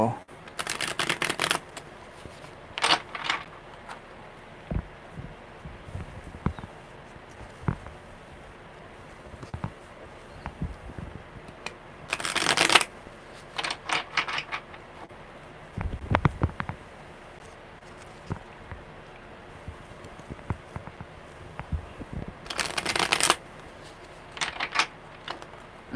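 Tarot cards get shuffled by hand in three separate brisk bursts, near and crisp, with long quiet stretches of soft rustling and small handling noises between them.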